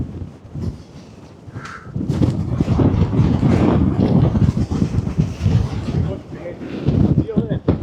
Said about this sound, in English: we're hitting the full force of the wind now